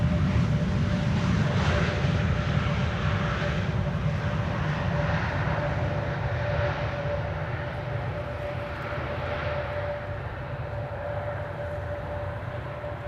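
A jet airliner arrives at Amsterdam Schiphol Airport on a windy day, its engine roar a steady, fairly loud broadband rumble with a faint whine, carried on gusty wind throughout.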